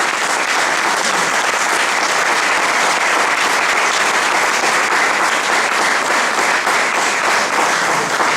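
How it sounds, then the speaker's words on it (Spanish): A church congregation applauds during a sermon, a dense, steady wash of many hands clapping loudly and without a break for the whole stretch. "Denle un aplauso al Señor."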